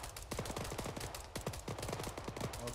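Rapid automatic gunfire in the military video game Arma 3, a dense run of sharp, fairly faint reports repeating in quick bursts without pause, suggesting a firefight some distance off.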